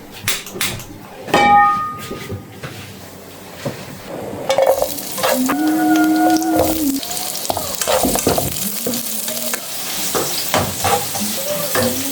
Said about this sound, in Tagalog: Start na tayo magluto ng adobong talong